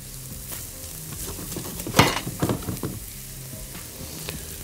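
Carrots and onions sizzling in a hot pan while being stirred, a steady close frying hiss with scraping stir strokes, loudest in a brief flurry midway.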